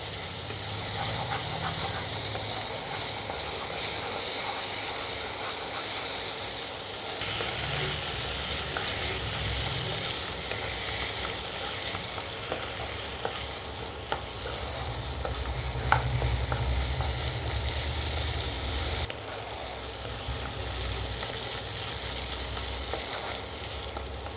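Spices and char magaz paste sautéed in oil in a pan for Katla fish rezala, a steady loud sizzle and hiss running throughout, with stirring scrapes mixed in and no talking.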